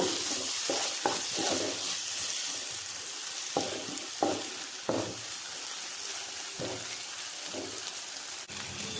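An onion-tomato masala with a pinch of turmeric fries for paneer butter masala, a continuous dense sizzle broken by several soft scraping stirs, close and steady with no talking.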